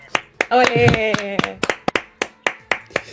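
An audience claps in a sharp, rhythmic beat, a dozen or so distinct claps spaced evenly, while a voice briefly shouts near the start.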